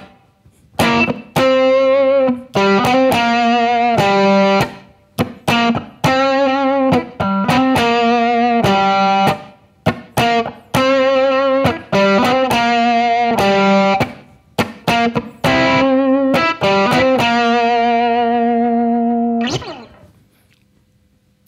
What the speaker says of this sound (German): Okay, ich spiele euch das ganze Ding mal mit Verzerrung,